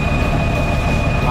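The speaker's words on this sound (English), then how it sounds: "You can hear the pump running right now." PTO-driven water pump running on a Kenworth water tender fire truck, a loud steady mechanical drone with a constant high whine, brief and close.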